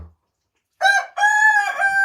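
A rooster crows loudly and close by in a chicken coop, one long drawn-out call following a brief low sound and a pause of near-silence.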